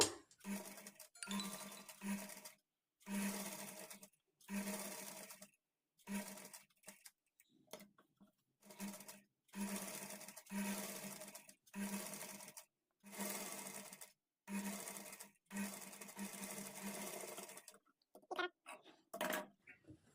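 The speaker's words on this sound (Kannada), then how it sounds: "ಸ್ಟಿಚ್ ಮಾಡ್ಕೊಳ್ಳಿ ಮೂಲೆಗಳು ನೀಟಾಗಿ ಬರೋ ಥರ ಸ್ಟಿಚ್ ಮಾಡಿಕೊಳ್ಬೇಕು" Sewing machine stitching around the neckline of a blouse, running in short whirring bursts of a second or two separated by brief pauses, close and fairly quiet, with no talk over it.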